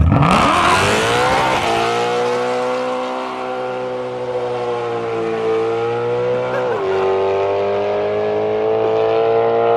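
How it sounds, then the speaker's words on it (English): A BMW E92 M3 fitted with a very loud aftermarket exhaust holds a steady high-rev launch-control drone after a sharp rev rise, then surges as it launches, loud and close throughout with no talk. "that's the launch control on the E92 M3"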